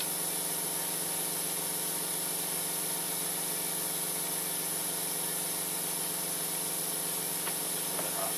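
A spray gun fed by a running air compressor sprays thinner in a workshop, giving a steady, continuous hiss over a low mechanical hum, with no talking.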